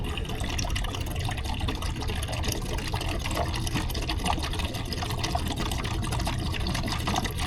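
DEF fluid pouring steadily from a box container into the DEF tank of a diesel truck, a continuous close liquid rush with a broad hiss lasting throughout, loud and unbroken with no talk.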